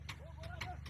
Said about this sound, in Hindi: वो गया घोड़ा।